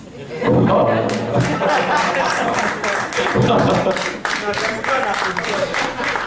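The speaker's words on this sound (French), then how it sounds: "tu as vu comment on applaudit" Crowd applause in a French-speaking audience, a thick, continuous wash of clapping that swells loudly and holds, with voices mixed in underneath.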